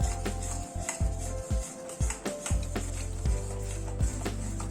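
Thick bubbling jaggery syrup is stirred in a pan, a utensil scraping and tapping against the metal in irregular strokes over a steady low simmering bubble.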